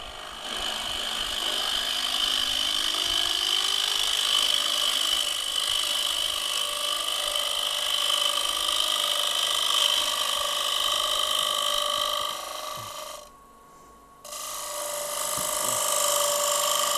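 A wood lathe spins a cherry bowl while a scraper cuts, giving a steady high-pitched whine and hiss for most of the stretch, breaking off briefly and then resuming, with no talking.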